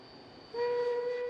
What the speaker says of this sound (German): Mit der Fahrt über den Rümlinger Viadukt nähert sich der Zug langsam dem Ziel seiner Fahrt